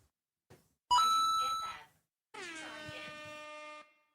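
A phone's voice-assistant activation chime sounds during a live magic stream: a short tonal ding, then a longer sustained chime with harmonic tones, loud and close with no talk over it.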